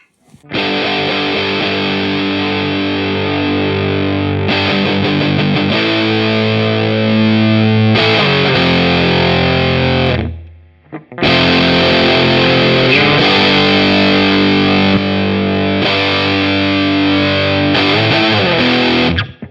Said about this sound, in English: so here's your rat sound, and then dirty rat